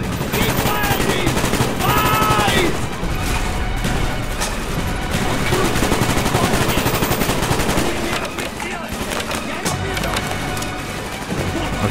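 Call of Duty Black Ops battle gunfire: rapid machine-gun bursts and scattered shots crackle loudly and almost continuously, mixed with crashes and shouted voices.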